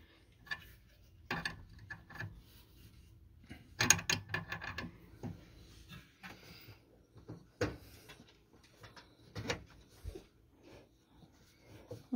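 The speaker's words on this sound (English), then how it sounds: "Nine sixteenths wrench." A 9/16 wrench works on a Dickinson fuel metering valve, making quiet ratcheting clicks and metallic taps in short irregular bursts.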